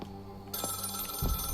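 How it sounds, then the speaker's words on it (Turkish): Telephone ringing in the horror video game Maid of Sker, a short electronic ring tone with bright sustained tones that start partway through, alongside low thuds near the end. "Telefon çalıyor abi."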